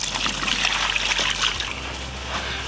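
Water is poured over a freshly caught male common carp at the bankside, making a close, steady splashing trickle that continues alone before easing off near the end.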